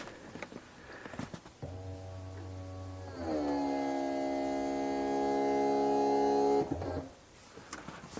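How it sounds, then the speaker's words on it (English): A BMW 6 Series convertible soft top being raised by its electric motor: a steady mechanical hum starts, shifts to a louder whirring drone for several seconds, then cuts off, heard up close with no talking. "We have to lift the convertible top up to access it."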